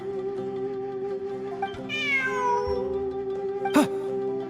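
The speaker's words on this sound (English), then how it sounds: "Look! A cat!" A cat meows in a video game while exploring ruins, one drawn-out rising meow over steady game background hum, followed by a sharp brief sound near the end.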